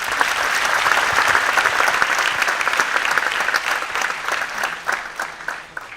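An audience at a seminar for GPSC exam students breaks into steady, loud applause, a dense wash of many hands clapping continuously throughout.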